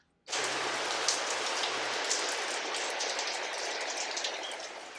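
Steady rain starts suddenly and falls on a covered porch beside a spring cut-flower garden, a dense, even hiss of drops that stays loud and constant.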